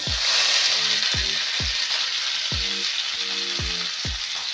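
Green pea paste fries in oil with asafoetida in a kadai, a steady broadband sizzle carrying repeated scraping stirs at an uneven rhythm, close and fairly loud with no speech.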